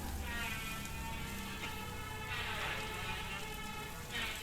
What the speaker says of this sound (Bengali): মিডিয়াম সাইজের 2টি টমেটো কেটে টুকরো করে দিয়েছি। দিয়ে কিছুক্ষণ নেড়ে চেড়ে ভেজে নেব।